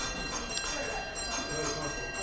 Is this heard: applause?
no